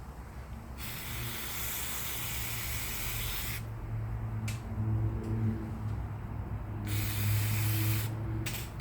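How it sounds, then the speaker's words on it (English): Steady hiss of a water spray rinsing parts from a Polaris Sportsman 700 ATV, loud and continuous with brief pauses and shifts in pressure, alone without talk. "Let's go ahead and rinse everything off."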